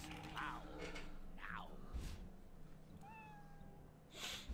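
Cats meow several times in the video game American McGee's Grimm, short rising and falling calls mixed with mechanical creaking, ratcheting and whirring game sounds.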